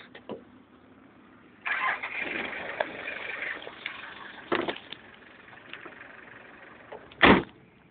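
A jeepney's engine cranks and catches, then settles into a low, moderately distant idle, with a few sharp knocks or door-like thumps along the way and a loud, brief clunk near the end.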